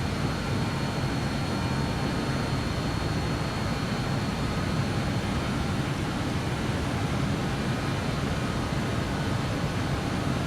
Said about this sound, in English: The aircraft will now begin to nose down and accelerate to the selected speed.